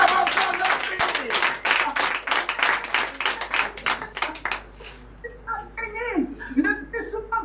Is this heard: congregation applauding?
yes